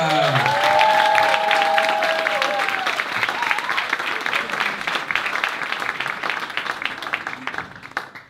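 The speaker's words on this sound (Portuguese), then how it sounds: "Um enorme salva de palmas para João Segura!" Applause for a comedian at a stand-up comedy gala, a dense wash of clapping from the audience that holds steady and slowly fades near the end, with a brief tonal sound at the start.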